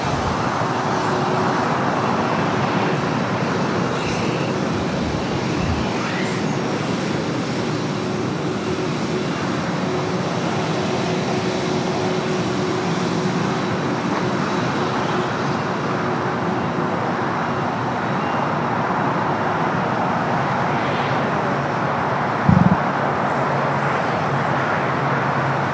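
A jet airliner taxis along a taxiway at Los Angeles LAX airport, its engines making a steady, continuous broadband rumble and hiss that holds at an even level throughout, with one brief thump near the end.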